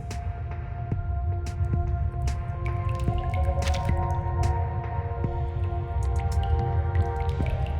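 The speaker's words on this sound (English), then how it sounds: "Water keeps dripping down from the side of the ceiling near the window" Water drips steadily from the ceiling beside a window in the video game Reverse: 1999, a series of distinct drops over a low ambient hum, with no voices.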